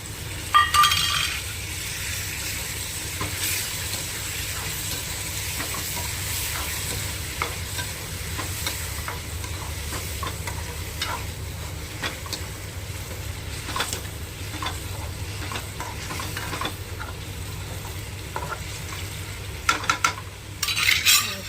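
Chopped tomatoes frying with browned onions in a pan for a village-style Gujarati corn curry, a steady close sizzle running throughout under repeated spoon scrapes and occasional metallic clinks.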